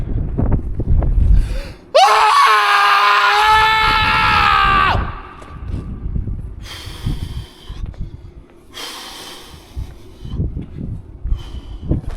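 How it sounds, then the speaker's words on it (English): A man lets out a single long, loud celebratory scream in Eastbourne town centre, held for about three seconds after heavy breathing, followed by panting and quieter street ambience. "Let's do an Eastbourne Town Centre scream just to fucking celebrate"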